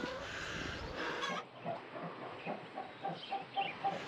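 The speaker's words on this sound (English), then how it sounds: "There's chickens there" Chickens in woodland near old industrial remains cluck in short repeated bursts, a scattered rhythmic series of moderately close calls against a steady outdoor background with no talking.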